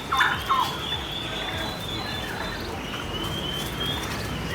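Black Spanish turkeys gobble in their pen on a turkey farm, with two loud, close gobbling bursts at the start followed by steady farmyard background noise.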